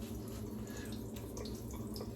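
Water runs steadily and close into shaving soap, a continuous wet rush with faint splashy detail and no talking.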